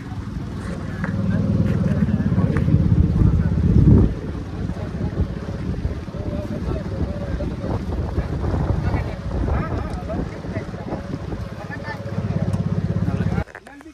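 Boat ride across the Narmada River, with a steady motor drone and heavy wind buffeting the microphone, louder in the first few seconds and continuing right to the end.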